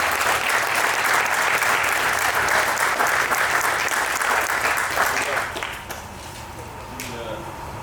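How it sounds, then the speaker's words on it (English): Loud, dense audience applause at a live fitness event, with many people clapping in a sustained roar for over five seconds before it drops off sharply, leaving faint crowd murmur and a few scattered claps. "let's first start with a round of applause for these guys for being here."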